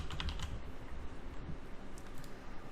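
Steady run of computer keyboard typing while renaming a participant in a Zoom meeting, quick close key clicks over a low room hum with no talking.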